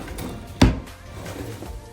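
A bathroom vanity drawer slides and bumps once, giving a single short wooden thud in a quiet room.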